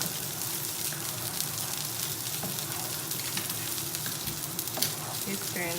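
Risotto rice being stirred in a pan, giving a continuous dense sizzle and low bubbling with faint scraping, steady and close throughout.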